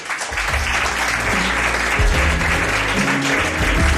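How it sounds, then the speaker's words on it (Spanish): A studio audience applauds a man on a live Spanish program, a broad sustained clapping with a few low thumps beneath it, loud and continuous throughout. "Un aplauso, ¿no?, para este señor."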